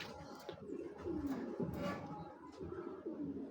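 Female racing pigeon cooing: soft, repeated low throaty coos in a short rhythmic series, close but quiet, with faint background noise.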